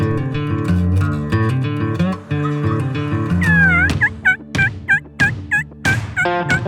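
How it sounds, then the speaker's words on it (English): Wild turkey gobblers in a canyon gobble loudly several times in quick bursts, layered over a steady sustained musical tone in the first half. "And as I call, there are gobblers all over this canyon."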